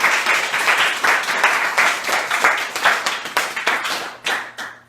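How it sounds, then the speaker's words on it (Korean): Audience clapping at a Korean church service, a burst of hand claps with distinct individual slaps audible, rhythmic and close, thinning into a few scattered claps near the end. "박수 한번 줘야 되는 거 아니에요?"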